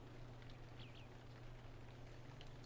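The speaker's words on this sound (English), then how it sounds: "Now we can hear the rain." Rain falls in the fantasy video game Lord of the Rings Online as a steady, even hiss that fills the whole stretch, with a low constant hum underneath and no voices.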